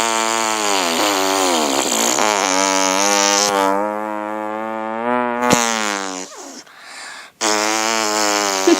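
A voice imitates a revving motorcycle, a loud, buzzing, harmonic drone that rises and dips in pitch for several seconds, breaks off briefly, then resumes.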